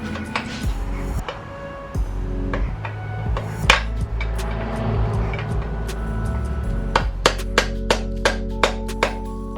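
Metal tools tapping and knocking on a Kawasaki ZX9R E2 engine during a teardown in a workshop, with irregular sharp taps and clanks that grow into a steady series of close hammer strikes toward the end.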